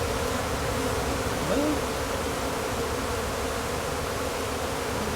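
A late-season honeybee swarm in a trash can makes a dense, loud, continuous buzz that sounds close and steady throughout.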